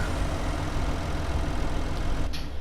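A new farm tractor's engine runs at a steady low rumble, loud and continuous, with a brief higher burst near the end.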